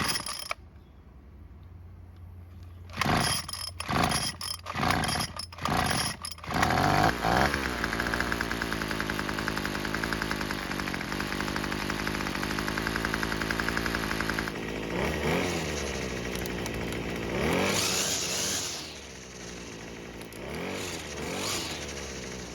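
A Craftsman string trimmer's small engine catches after several sharp pull-start bursts, then runs at a steady loud buzz, revving up and down briefly before its note sags.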